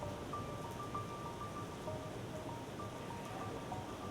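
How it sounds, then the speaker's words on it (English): The UWRL Rainmaker, a rainfall simulator dropping uniform 4 mm raindrops, gives a steady, even hiss of falling rain with faint tonal tones in the background. "The UWRL Rainmaker produces a uniform raindrop size of 4 millimeters."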